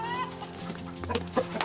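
Naked neck chickens, including a yellowish naked neck rooster, cluck softly close by with short murmuring calls over background noise, and a voice talks faintly underneath.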